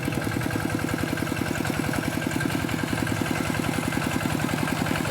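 A farm tractor engine idles steadily and close by, its even, rapid low-pitched chugging continuing without pause and with no talk over it.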